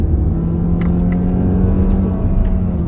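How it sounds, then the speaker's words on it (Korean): Kia K7 Premier 2.5 engine straining under load while climbing a hill, a loud steady low droning roar heard from inside the car with faint higher whines. "언덕 올라갈 때 엔진 굉음 내면서 이렇게"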